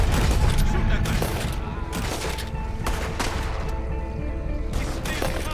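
A shootout in the video game Red Dead Redemption 2, with dense, overlapping bursts of gunfire cracking loudly and close in rapid succession throughout.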